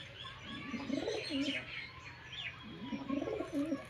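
Female Madras pigeon cooing close by, two soft rolling coo phrases a couple of seconds apart, quiet and alone.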